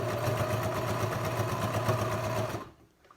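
A sewing machine runs steadily while stitching a fitted fabric mask for a germ or allergy mask project, a loud, even mechanical whir that continues for most of the clip and then stops abruptly near the end.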